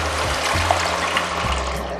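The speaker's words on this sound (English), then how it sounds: "Next, add water, amount of your choice," Water poured into a simmering kofta curry gravy thickened with chickpea flour, a steady splashing trickle that runs unbroken for about two seconds at close range.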